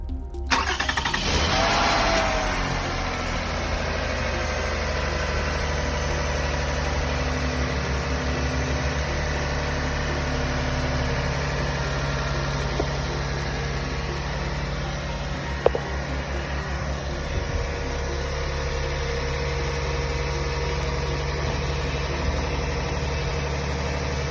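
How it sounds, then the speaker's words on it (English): A car engine cranks over for about two seconds, catches, then settles into a steady, loud idle that continues alone for the rest of the stretch, with a couple of faint clicks partway through. "now I'm just gonna show you me starting up the car"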